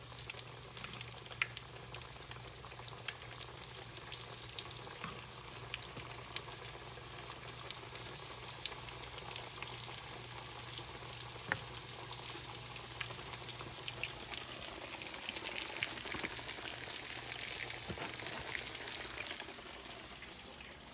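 Catfish pieces frying in hot oil, a quiet, steady background crackle and sizzle with scattered small pops, distant and even for the whole stretch.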